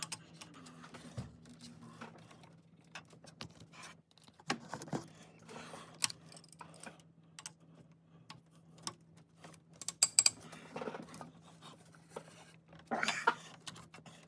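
Wrench ratcheting torque-to-yield head bolts on a VW 1.8T engine in a 2015 Jetta, a series of faint, irregular clicks and clunks in a quiet space, with a steady low hum underneath.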